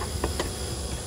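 Honey bees buzz in an open hive during a summer split: a constant, soft, hissing drone from many bees close by, with no talking.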